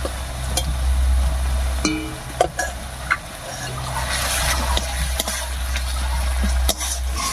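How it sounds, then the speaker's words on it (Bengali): Prawns stirred with a paste of ground ginger, garlic, coriander, cumin and dried chilli in a pan give a steady close sizzle, with scattered scraping and clicking from the spatula and a low constant hum beneath. "সব মশলাগুলো দিয়ে খুব ভালো করে মিশিয়ে নিয়েছি"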